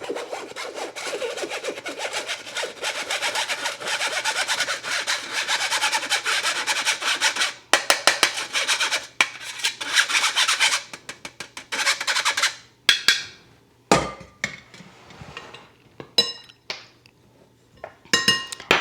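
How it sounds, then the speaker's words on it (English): Dry cookie ingredients, including salt, are sifted through a hand sifter, giving steady scratchy rubbing and rasping at first, then breaking into separate taps and clicks toward the end, close and fairly quiet. "I'm going to combine those well by sifting"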